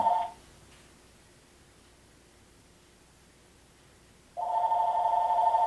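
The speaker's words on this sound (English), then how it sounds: "The car phone's distinctive buzzing pulled Robert Quinn out of his corporate war" A car phone buzzes: a brief buzz at the start, then a quiet gap, then a loud buzz that continues to the end.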